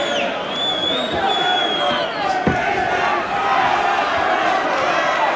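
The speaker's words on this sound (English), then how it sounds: "Crowd rallying to him." A boxing arena crowd roars and rallies behind a fighter during a bout, loud massed cheering and whoops close and continuous, with commentators' voices running over it.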